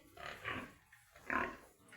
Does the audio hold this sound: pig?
yes